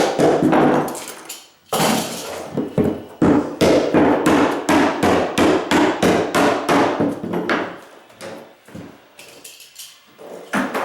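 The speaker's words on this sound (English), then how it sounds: "they gotta be careful when they're hammering it down" Rapid, loud hammer blows drive nails into baseboard in quick runs, one strike after another, with brief pauses between bursts.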